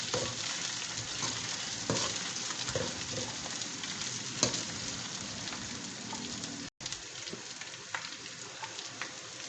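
Onion, ginger and garlic fry in a pan for dhaba-style aloo gobi, a close crackling sizzle broken by stirring scrapes and a brief cut near the end.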